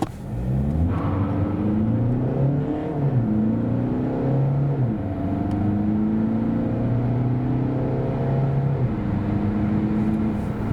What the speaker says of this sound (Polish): Tak w prawdziwym świecie wygląda sprint samochodu od zera do setki.